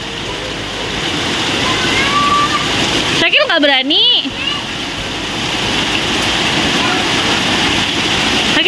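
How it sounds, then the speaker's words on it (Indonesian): A waterfall by a pool roars as a steady, full rush of falling and splashing water, with a voice briefly speaking over it. "Nih, ada ini. Air terjun."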